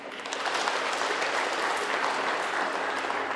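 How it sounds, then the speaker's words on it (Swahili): Audience applauding the children of the Holy Childhood group, dense continuous clapping that swells in and holds loud and even throughout. "tuwapigie makofi"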